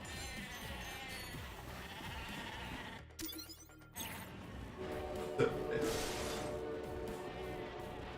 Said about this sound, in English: Why would you invent a gun that turns people into sheep?